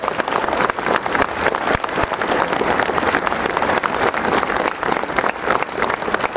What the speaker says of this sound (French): Et applaudissez les Brescudos